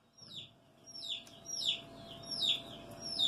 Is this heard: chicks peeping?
yes